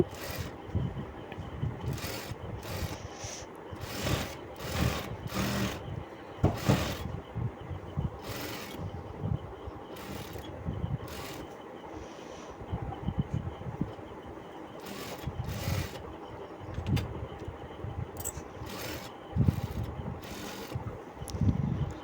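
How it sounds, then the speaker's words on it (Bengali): Sewing machine double-stitching a blouse, bursts of rapid mechanical whirring that start and stop over a soft, steady background. "তো নিচের এই সৌন্দর্যের জন্য আমি ডবল সেলাই দিয়ে নিচ্ছি"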